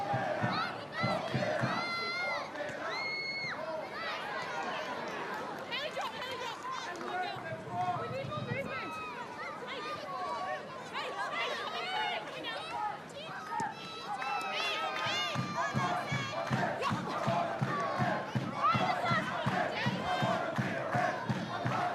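Yellow Fever fans in a stadium crowd at a Wellington Phoenix A-League women's match cheer and clap, a dense roar of many voices with bursts of rhythmic clapping at the start and again near the end.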